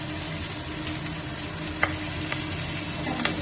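Ground onion paste with ginger and chili dropped into hot oil in a pan, giving a steady dense sizzle close by with a few faint clicks.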